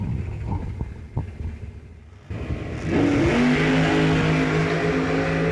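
Drag race launch of an S10 pickup truck against a dragster at a New Year Nationals event: idling engines rumble, then a loud, sustained roar of engines building steadily as the vehicles leave the line.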